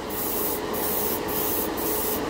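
A spray can sprays paint onto a model car at full blast, a steady loud hiss held without pause, with faint rhythmic flutters in the high end and no talking.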